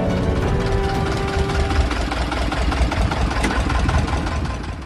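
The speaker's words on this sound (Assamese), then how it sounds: "বিগত 16 বছৰে এই ইঞ্জিনযুক্ত নাওখন চলাই জীৱন নিৰ্বাহ কৰি" An engine-powered wooden country boat on an Assam river, its motor chugging and knocking steadily at close range, loud and continuous without voices.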